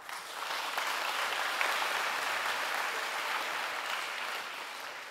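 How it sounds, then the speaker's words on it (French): A graduation-ceremony audience breaks into applause, building quickly into a steady, moderately loud patter of many hands that stays even before easing slightly at the end. "qu'on peut applaudir"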